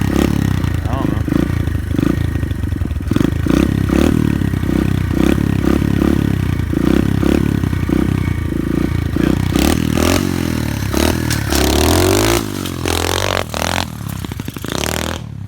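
An SSR 125 four-stroke pit bike revs hard during a wheelie, its loud, choppy engine note rising and falling close by. Excited shouting from several people runs over it throughout.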